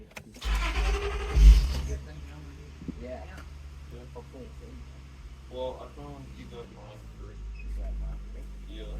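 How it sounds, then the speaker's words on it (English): A car engine cranks and catches near the start with a loud burst, then settles into a steady low idle, with a person talking intermittently over the running engine. "Now we're gonna start the car."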